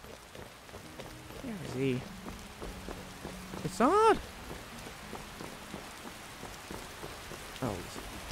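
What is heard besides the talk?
rain falling in Skyrim Special Edition video game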